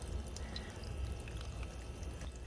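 Soft, steady water trickling and dripping from a small tabletop fountain running continuously, faint and close with no talking.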